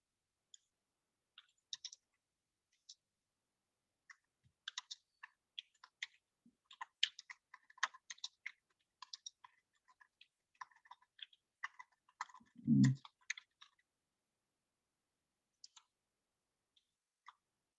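Keys tap on a computer keyboard in quiet, scattered bursts of light clicks, growing denser in the middle, with one short louder low knock partway through.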